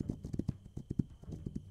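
Horses in the video game This Land Is My Land trot with soft, irregular clip-clop hoofbeats. The sound is quiet and close, with a faint steady tone behind it.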